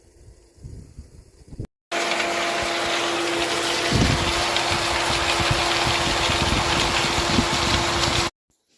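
A well pump kicks on abruptly and runs as water fills, a loud, steady hum with rushing water that stops sharply after several seconds, with quieter sounds before it starts.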